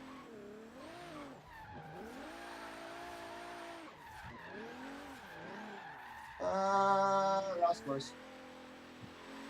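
A turbocharged Alfa Romeo Milano Quadrifoglio Verde in a driving video game holds a steady engine drone under continuous talking, and a loud burst of skidding tire squeal comes near the end.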